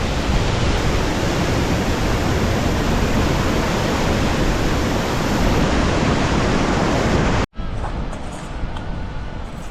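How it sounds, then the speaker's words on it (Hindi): Waterfall on the Hampta Pass trek, a loud close roar of rushing, falling water that fills the scene steadily, then breaks off in a sudden cut to a quieter outdoor hush. "बिल्कुल नज़दीक आ गए हैं हम लोग वाटरफॉल के"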